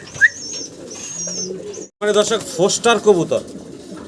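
Pigeons at a farm coo and call repeatedly in short warbling bursts, fairly close, while someone speaks over them.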